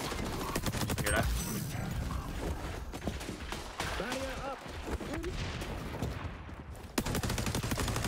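Gunfire in the shooter XDefiant, bursts of rapid shots crackling at the start and end with scattered mechanical clicks between, under players talking.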